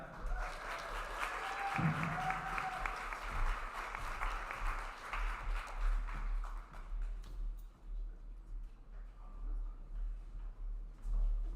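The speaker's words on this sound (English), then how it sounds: "Let's give Rich another round of applause." An audience at a Disability Mentoring Day kickoff reception applauds a speaker, steady mid-level clapping that fades out partway through, leaving quieter room noise.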